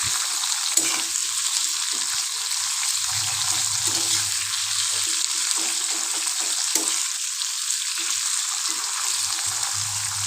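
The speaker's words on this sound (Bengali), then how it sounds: "এবার আমি কেটে রাখা পেঁপেগুলোকে তেলের মধ্যে দিয়ে দিলাম দিয়ে খুন্তির সাহায্যে একটু ভালোভাবে নাড়িয়ে নিচ্ছি" Cut papaya pieces fry in hot oil for chutney while a metal spatula stirs them, giving a loud, steady sizzle close up, with occasional scraping strokes against the pan and no talking.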